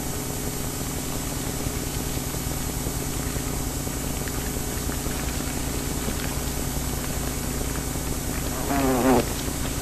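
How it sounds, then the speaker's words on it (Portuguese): Paper wasps buzz in a dense, steady drone close by, a continuous insect hum that holds evenly throughout with no voices. "Estas vespas podem parecer agressivas, mas são bastante dóceis."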